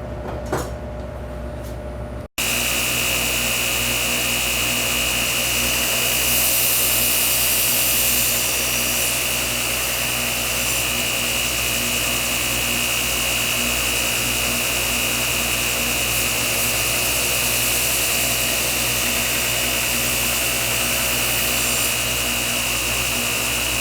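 Knife blade for a Gunslinger knife ground against abrasive grit on a grinder, a loud continuous roaring whir that kicks in after a couple of seconds of quiet and holds steady to the end.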